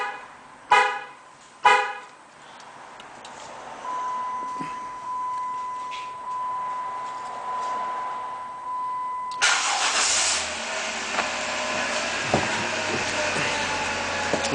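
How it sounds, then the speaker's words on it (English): Car engine started by remote starter: two short horn-like chirps, then a quiet pause with a faint tone, then the engine cranks and catches into a steady idle. "I am going to activate the starter one more time using the 3 press."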